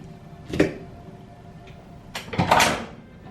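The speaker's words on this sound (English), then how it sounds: "It does open the front door." A hotel room front door at a Disney resort opens and then closes, heard as two short thuds with a clicking latch about two seconds apart in a quiet room.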